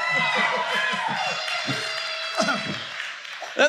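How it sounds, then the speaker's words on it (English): An audience breaks into applause and cheers for a row of fathers on Father's Day, clapping steadily at moderate distance with a brief louder swell of cheering near the end. "Let's give them a round of applause."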